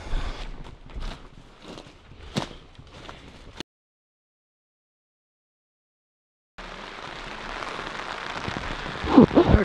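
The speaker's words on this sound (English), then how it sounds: "it was a 3-alarm emergency to get out of this rain. It started pouring" Heavy rain pouring outdoors in the Colorado backcountry during an elk hunt, a broad steady hiss of drops on the ground. It breaks off into a few seconds of silence, then returns louder and denser.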